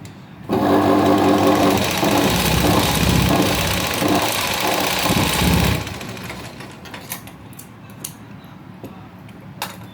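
A sewing machine double stitches a blouse yoke, its motor whirring loudly and evenly at close range for about five seconds before stopping, followed by faint handling clicks and rustles.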